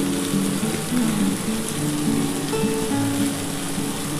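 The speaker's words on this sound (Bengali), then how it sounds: "দিয়ে ভালো করে একটুখানি কষিয়ে নিই, নিয়ে তারপর কিন্তু আমি জল দিয়ে দেবো।" Vegetables sautéing with shukto spice mix in a pan, a steady close sizzle and crackle of frying that continues without break, with faint stirring under it.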